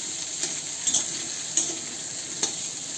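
Sliced okra sizzles as it is sautéed in a pan over medium heat, a steady close frying hiss broken by a few sharp clicks of a utensil against the pan.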